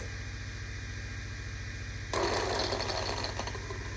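A steady mechanical whir from the small electric motor of a Losi DBXL-E RC car, then a harsh, gritty grinding rattle from the axles at full steering lock cuts in halfway and continues loudly to the end.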